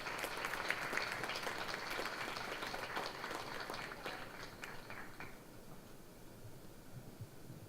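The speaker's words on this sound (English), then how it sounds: "can we have another round of applause for Willow" An audience at an autism show event in Cardiff applauding, dense steady clapping that thins and fades after about five seconds, leaving room noise.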